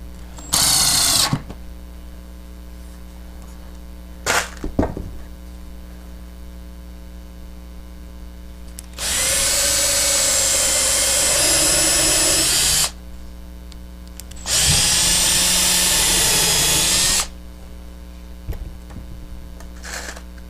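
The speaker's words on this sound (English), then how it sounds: "we're going to go ahead and put a couple of screws in. These are just regular old wood screws" A power drill drives ordinary wood screws into a fiberglass roof in two sustained whirring bursts of a few seconds each, close and loud over a steady electrical hum, with short clicks and knocks between.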